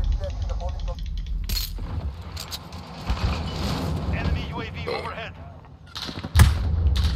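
Gunfire in a Call of Duty Modern Warfare hardcore domination match on the Crash map, sharp shots and thuds cracking out intermittently under someone talking close by.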